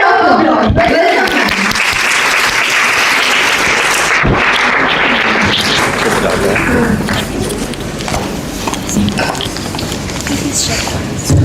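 Audience applause at a TEDx live event, steady dense clapping filling the room throughout, with loud amplified voices over it at the start.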